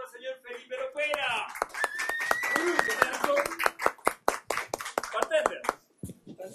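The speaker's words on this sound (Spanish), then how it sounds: "Fuerte aplauso para el señor Felipe Lopera." An audience claps for Felipe Lopera during a live bartending competition, a steady burst of close hand claps with an announcer talking over them before the clapping thins out near the end.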